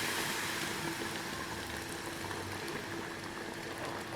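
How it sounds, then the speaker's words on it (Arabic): Water is poured into a pot of very hot basmati rice, producing a faint, steady hissing sizzle and bubbling that continues evenly throughout, with no voices. "نبتدي ننزل بالميه كده بتاعتنا، الميه بتاعتنا نبتدي ننزل بيها. شايفين سامعين الصوت ده؟"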